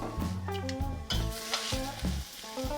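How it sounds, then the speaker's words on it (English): Bok choy hits a hot pan with sweet mini peppers nearby, giving loud, crackling sizzles in bursts as it is stirred, close and without talk. "it getting too crazy, we're going to add in bok choy"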